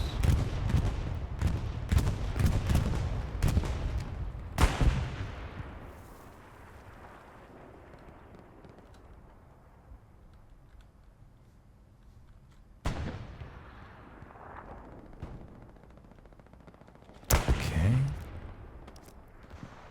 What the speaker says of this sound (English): Bombing run coming in from the Axis.